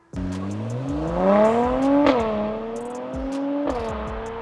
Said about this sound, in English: all you need to do is just hit the accelerator when you're ready and the car will zoom off